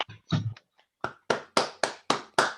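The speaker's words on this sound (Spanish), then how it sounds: "el bien merecido, en este caso, aplauso por esta conferencia" Sparse hand claps from a small remote conference audience follow a couple of brief indistinct sounds, settling into about six evenly spaced, sharp claps.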